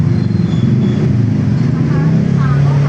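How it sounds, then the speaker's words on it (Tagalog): A motorcycle rides along a road in Taytay, Rizal, with a loud, steady engine drone and road rumble that carries through the whole stretch. "So tara, dalhin na natin sa kanya yung motor."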